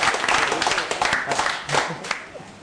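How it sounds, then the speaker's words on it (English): An audience applauding at a Quake 4 grand final gaming tournament: dense, sustained clapping from a crowd, fairly loud and continuous, fading slightly toward the end. "Big round of applause."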